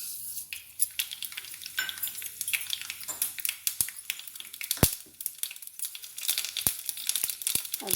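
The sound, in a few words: mustard seeds sizzling in hot oil in a small kadai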